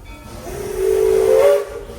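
Steam locomotive whistle on the Walt Disney World Railroad at Magic Kingdom, a single sustained hissing blast that swells and then cuts off, heard close and loud over a steady background hiss.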